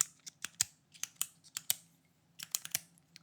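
A metal pen casing is clicked repeatedly, giving sharp, close, crisp clicks in uneven bursts of two and three with short pauses between them, with no other sound around.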